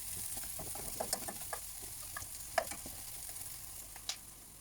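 Onion and garlic cooking in a pan for Filipino pancit guisado, a quiet sizzle with scattered small pops and crackles and light stirring clicks, soft and close with no talk.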